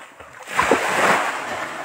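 A brief swell of surf on a beach at Balud, Masbate, rising into a soft rushing wash and then easing off, with no talking.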